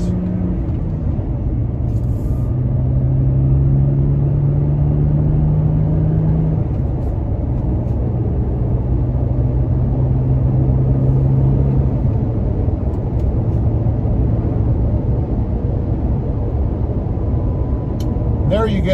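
A Toyota Tacoma on aggressive off-road tires rolls at about 50 mph over coarse pavement, giving a loud, continuous low road roar and tire drone from inside the cab, steady throughout with a faint whining hum layered in.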